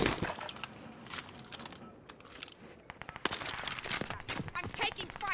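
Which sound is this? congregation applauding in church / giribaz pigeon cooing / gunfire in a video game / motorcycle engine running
gunfire in a video game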